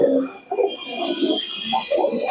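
A pigeon kept for day-night tournament flying coos softly in low repeated burbles, close by under a faint steady background tone.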